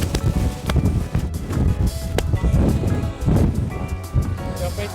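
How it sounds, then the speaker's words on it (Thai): Strong gusty wind buffets the microphone at a high viewpoint in Barcelona, a loud, continuous broadband rush with surging peaks and no talking. "ลมข้างข้างบนแรงมาก"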